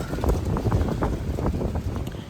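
Strong wind blows outdoors near houses in England, buffeting the microphone with a continuous low, gusty roar that rises and falls without pause.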